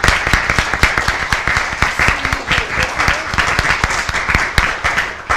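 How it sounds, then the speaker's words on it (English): A room applauds an organizer after a panel discussion, dense, steady clapping from many hands that holds for several seconds at strong level, with a brief murmur of voices beneath. "I think we first need to give her a round of applause."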